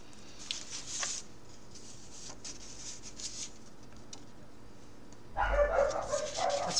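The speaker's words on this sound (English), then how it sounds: "that's my dog, sorry for the noise." A dog barks a few times indoors, faint and distant at first, then a louder, closer burst of barking and whimpering at the end, with no talking over it.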